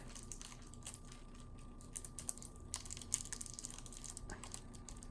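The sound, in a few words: opening shrink wrap on a KeyForge card deck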